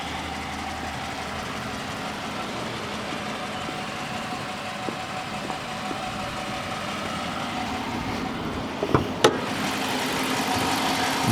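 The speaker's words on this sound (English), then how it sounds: "You can hear how smooth she sounds." A 2014 Dodge Charger police pursuit vehicle with a 5.7 HEMI V8 and rear-wheel drive idles steadily at close range, a smooth, even low rumble with a couple of faint clicks near the end.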